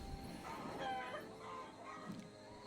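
Chicken clucking in the Popup Dungeon video game, a few faint bird-like clucks and squawks over quiet game background sounds.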